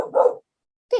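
A village dog on an island gives two sharp barks, the first a longer double bark and the second a short one after a pause, fairly close and alone.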